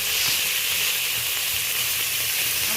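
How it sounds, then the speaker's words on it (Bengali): Small mourala fish sizzle steadily in hot oil in a pan, a loud, dense, unbroken frying hiss with no voices. "তেলটা বেশ গরম হয়ে গেছে, অল্প অল্প করে মাছ দিয়ে দিচ্ছি।"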